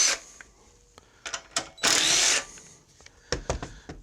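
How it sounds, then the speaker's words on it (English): Screws being removed from the cylinder head of a Honda GX140 engine that burns oil, with close clicks and a burst of whirring tool noise between short metallic taps and ratcheting sounds. "I'm going to take these 2 screws off here."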